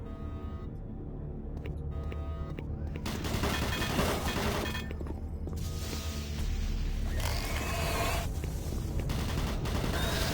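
Automated turret guns in the video game Doom 3 firing long, rapid bursts of gunfire that continue almost without pause, loud and dense, with brief mechanical clatter between the strings of shots.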